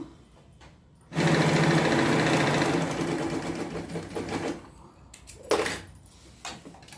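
A domestic sewing machine runs a fast, steady burst of stitching along a patiala pant seam, loud and close, then stops, followed by a second shorter run and a few clicks of handling.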